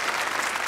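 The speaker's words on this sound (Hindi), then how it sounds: "तालियां हो जाइए आपके लिए।" Brief burst of audience applause at a quiz gathering, dense clapping from a crowd, close and steady.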